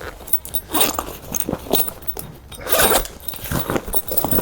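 A zipper is drawn around the end of a canvas swag bag in a series of quick rasping pulls, close and crisp, with short pauses and handling rustles between the strokes.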